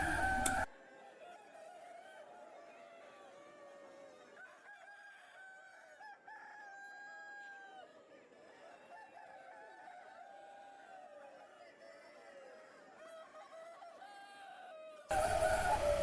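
Chickens clucking and a rooster crowing on a mountain chicken farm, a steady chorus of overlapping calls at moderate distance with repeated crows rising above the flock, no talking.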